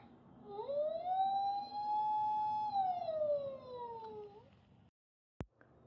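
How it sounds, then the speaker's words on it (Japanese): A toy police car from a vehicle puzzle plays a siren sound effect: one electronic tone rises, holds steady and falls over about four seconds. It ends in silence, followed by a single short click. "パトカ ー、 Police car."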